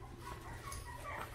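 Petite mini Goldendoodle puppies give faint, high whimpers and small yips, soft and scattered over a low background hum.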